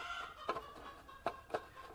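Hens cluck in a few short, distinct bursts at moderate distance over a quiet outdoor background.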